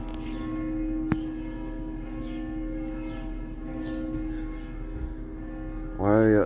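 Sustained ringing church bell tones hold steady throughout in La Crosse or Onalaska, Wisconsin, with a faint voice briefly rising near the end.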